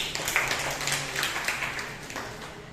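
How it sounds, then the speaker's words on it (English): Students in a science teaching class give a round of applause: moderate, slightly distant clapping from a small group, irregular and overlapping, holding steady then thinning out toward the end. "A round of applause, please."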